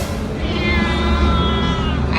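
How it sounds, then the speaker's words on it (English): A cat meows in one drawn-out, fairly loud call close by, over a steady bed of outdoor background noise. "Oh, hello, cat."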